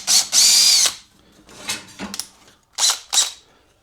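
A power drill whirs in several short, loud bursts as it backs out screws from the feet of a Primeweld 225x welder, with a long first run, then brief pulses separated by quiet gaps.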